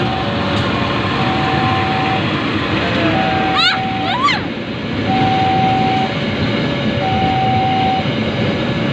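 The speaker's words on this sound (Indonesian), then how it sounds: "Tuh keretanya datang." An Argo Wilis train arrives and passes close by, making a loud sustained roar and rumble with a steady horn-like tone and a brief rising squeal, while people talk nearby.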